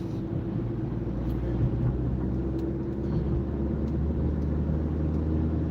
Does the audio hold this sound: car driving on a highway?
yes